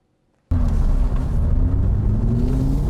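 Aston Martin V8 Vantage being driven, heard from inside as a loud, steady engine rumble that starts abruptly and holds a low droning tone that climbs slowly in pitch.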